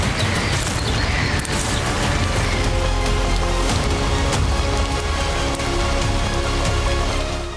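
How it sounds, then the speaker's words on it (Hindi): Heavy rain falls on a mountain path on Brahmagiri in Maharashtra, a loud, dense, continuous hiss of drops close by, with no voices. "लेकिन बादल और बारिश की लुका छिपी जारी थी"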